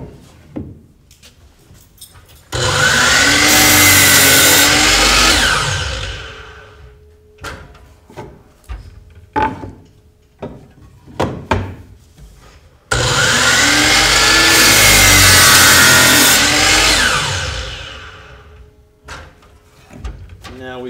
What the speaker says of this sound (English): that is how to safely operate the chop saw